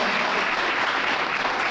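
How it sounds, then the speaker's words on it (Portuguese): A church congregation breaks into sustained applause, a dense, even wash of many hands clapping that stays steady and fairly loud throughout, with no speech over it. "Vamos aplaudir, né?"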